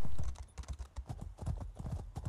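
Horse hooves clip-clop in a brisk, steady rhythm as a rider gallops in the video game Elder Scrolls Online, close and clear with little else around them.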